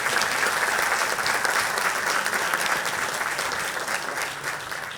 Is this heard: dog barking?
no